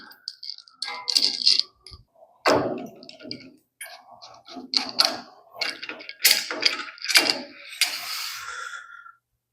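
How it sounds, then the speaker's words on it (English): Metal flip stops being slid onto the fence of a Cantek D405ANC sliding table saw, heard as a close series of scraping slides, clicks and clunks in irregular bursts with brief pauses between them. "And then the only thing left is to slide on our flip stops."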